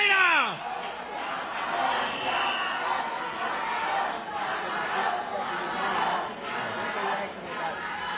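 Boxing arena crowd cheering and shouting for the challenger after a fight, a loud, sustained roar of many voices with swelling waves of shouts and chatter, opening with a short falling whistle-like sweep.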